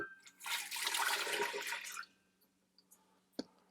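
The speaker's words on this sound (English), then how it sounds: "and then I'll pour in my milk" Milk pours in a strong, steady stream into a stand mixer bowl for hot dog roll dough, lasting about a second and a half before stopping. A few light clinks follow, and no one speaks.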